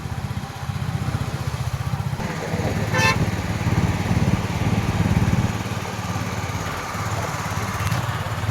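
A Bullet motorcycle engine idles in a crowded, traffic-jammed street in Surat, giving a steady, loud low thump throughout, with a short horn toot from nearby traffic around the middle.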